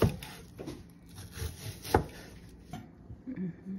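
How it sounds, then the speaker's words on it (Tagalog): Bitter gourd (palaya) being cut with a knife on a wooden board, a few irregular knocks and scraping chops close by, with quiet rustling between them. "Mag-cut na tayo ng palaya."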